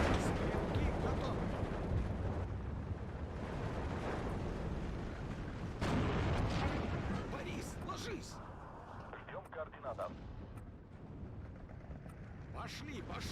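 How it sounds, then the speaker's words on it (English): Heavy artillery barrages in a video game battle, with repeated booming blasts and rumbling impacts layered densely over one another, loud and continuous, with a voice talking beneath the din. "It's a lot of artillery."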